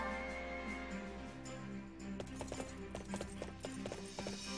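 Horse hooves clip-clop along a road in Fire Emblem Warriors: Three Hopes, a brisk run of light hoofbeats over steady game music and ambience.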